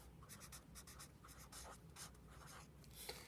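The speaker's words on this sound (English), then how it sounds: "I'm going to write acute triangle" Pen or pencil writing on paper for a geometry lesson, a run of quick scratchy strokes close to the microphone, with short bursts and pauses as words are written, quiet and with no talking.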